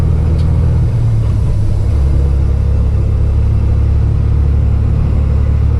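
A semi truck engine drones loud and close as the driver eases off the pedal and it shifts gears itself, the low rumble dipping briefly in pitch near the start before settling into a steady heavy hum.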